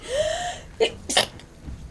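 A single sharp sneeze bursts out after a short rising intake of breath, close and clear, with a faint sniff afterward.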